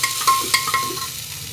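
Masala with green chillies frying in a pressure cooker for a mushroom and capsicum curry is stirred in a few quick scraping strokes over a soft, steady sizzle.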